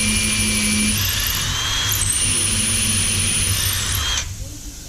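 A power drill whines steadily into a wooden table top for about four seconds, loud and close, then stops abruptly.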